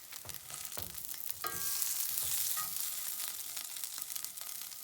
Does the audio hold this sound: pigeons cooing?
no